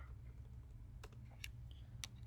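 Computer keyboard typing during database work, heard as a few sparse, quiet key clicks over a steady low hum, with no talking.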